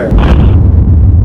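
A single loud, deep boom as a mothership and fighter spacecraft are destroyed, rumbling low and fading over about a second.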